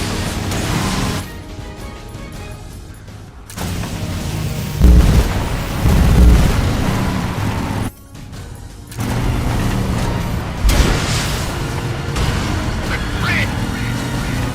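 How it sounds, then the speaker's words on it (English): Missile explosions in the video game Metal Gear Solid Delta: Snake Eater, loud continuous booming blasts and crashing rumble with brief drops in between, with game voices shouting over the chaos. "More missiles."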